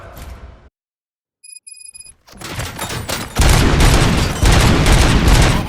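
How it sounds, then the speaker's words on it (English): Gunfire in the RoboCop Rogue City video game: after a brief near-silent gap with a few electronic beeps, dense bursts of shots and booms build up loud and sustained, with no talk. "Gunshots? What's going on?"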